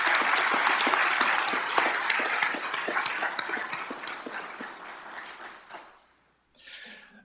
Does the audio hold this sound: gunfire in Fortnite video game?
no